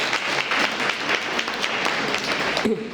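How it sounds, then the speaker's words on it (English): An audience at a panel session of an AAPI empowerment summit with a congressman breaks into a short burst of steady applause, dense clapping from many hands that ends abruptly. "let's give him a round of applause."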